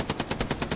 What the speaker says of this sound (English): making his MG go burr